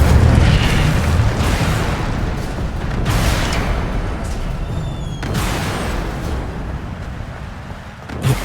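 Incendio fire spell cast in Hogwarts Legacy, a loud whooshing burst of flame with booming rumble that roars continuously, with several sharp flare-ups, inside a library at night.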